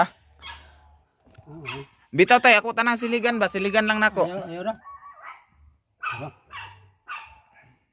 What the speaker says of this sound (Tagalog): Banha ning iro